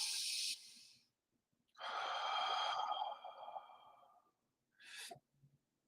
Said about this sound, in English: And then I just take a deep breath.